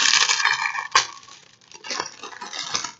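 Diamond painting kit packaging being pried open up close, with crinkly plastic rustling and crackling, a sharp snap near the start, then continued handling and crumpling.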